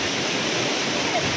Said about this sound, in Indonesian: Juga di sini, guys, ada air terjun.